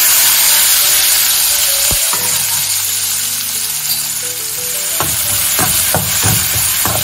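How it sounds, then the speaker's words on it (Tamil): Dried turkey berries fry in oil with a loud, dense, continuous sizzle, close by, with a few sharp knocks of a utensil against the pan. "கொஞ்சம் எண்ணெய் இதுல இருந்து எடுத்துட்டு சுண்டை வத்தலையும் இதுல வறுத்துக்கலாம்."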